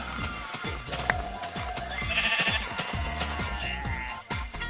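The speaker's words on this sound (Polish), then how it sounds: "Patrz, następna owca" Sheep bleat in the video game Minecraft, a couple of short wavering bleats standing out over background game music and ambient noise, with no talk during the clip.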